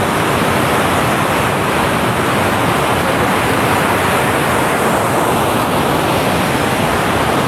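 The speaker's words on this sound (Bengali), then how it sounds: "সেই ঝর্ণাটা দেখতে পাচ্ছ, দুধের মতো সাদা সেই জলগুলো, যেটা ড্যাম থেকে কিন্তু বের হয়ে যাচ্ছে এখানে" White water pours from the Dumboor dam in a steady, loud roar of rushing water, dense and unbroken from start to finish with no voices.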